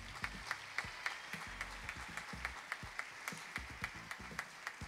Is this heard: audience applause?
yes